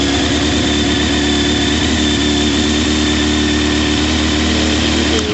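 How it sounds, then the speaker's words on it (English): A motorcycle engine runs at a steady, loud idle close by, a constant rumble with no clear cranking or revving across the stretch. "This will crank over the motor."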